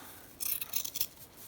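Scissors snip along the raw edge of fabric, a quick run of four or five crisp close cuts at low volume.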